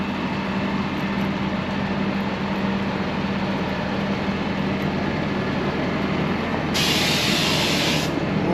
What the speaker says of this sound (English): You can hear the stuff traveling to the truck.